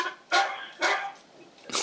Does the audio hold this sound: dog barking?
yes